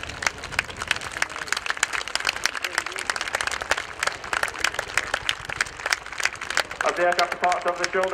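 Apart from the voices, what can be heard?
crowd applause and cheering for the RAF Chinook display team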